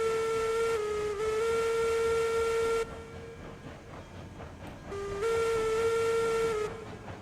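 A steam locomotive in the RailRoads Online game gives a loud, sustained steam whistle that holds for several seconds, drops to a hissing, chuffing rumble, then sounds again as the engine starts to move off.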